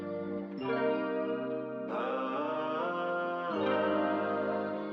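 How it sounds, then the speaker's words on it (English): Sustained, heavily effected guitar chords ring out with a washy, echoing tail, changing chord twice over a few seconds. "I love the sound, the deep depth of that guitar tone"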